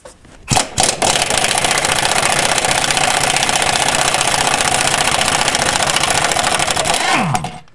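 An impact wrench with a long impact socket undoes 14 mm bolts during engine removal on a Hyundai Accent, giving a short burst and then a loud continuous rattling hammer for about six seconds up close before cutting off.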